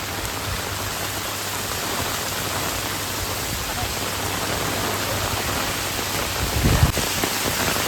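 Heavy rain pours down steadily in a village, a dense, continuous hiss of drops on surfaces filling the whole stretch with no pause, with a brief louder splash or thud near the end.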